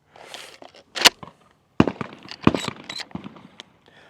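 A suppressed Mossberg 500 Hushpower 12 gauge shotgun fires, giving muted cracks mixed with sharp mechanical clacks of the action being worked, several irregular bursts close by.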